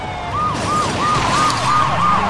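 A police siren wails in Saints Row 2, a loud, fast up-and-down yelp that repeats steadily and close over the rumble of a car engine.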